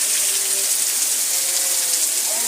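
Steady rain falling at night outdoors, a dense, even hiss of drops filling the whole span without pause, close and moderately loud.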